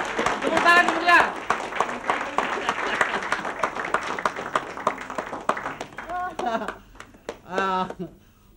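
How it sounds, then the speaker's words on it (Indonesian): Studio audience at an Indonesian TV family show claps in bursts while a host talks over and between the applause, the clapping thinning out toward the end. "Tepuk tangan ibu ya."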